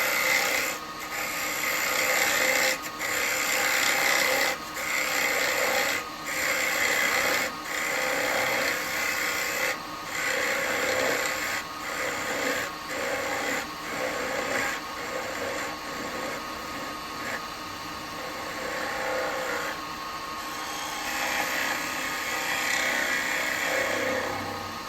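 Gouge making light slicing cuts into a laburnum bowl spinning on a wood lathe, a close rasping hiss in repeated strokes broken by short pauses, with no talking.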